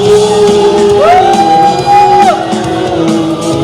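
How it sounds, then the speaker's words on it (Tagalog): A large worship congregation at a Sunday El Shaddai family gathering shouts and whoops for joy, a loud sustained crowd roar with a rising held cry. "Sumisigaw sa tuwa."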